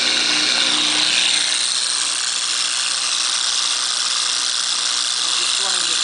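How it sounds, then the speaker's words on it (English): A small electric motor spins a flywheel, giving a steady, close, hissing high whir that holds at an even level throughout. "I'm just running this flywheel."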